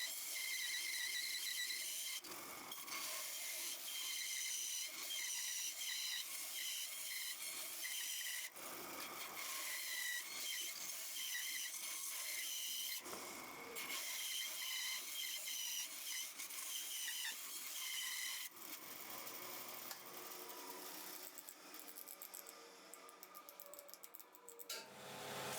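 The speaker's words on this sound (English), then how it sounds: "On the belt sander, sand it until smooth and round." A belt sander grinds steadily against a block cut from a scrap 4x4, rounding it into a wooden box. The rasping whine runs loud and continuous, broken by a few short pauses as the wood is lifted and turned.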